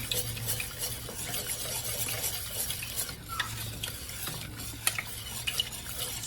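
Milk is stirred into a sauce in a pan with a continuous scraping and swishing. Faint sizzling and occasional light utensil clinks sit underneath, with no talking.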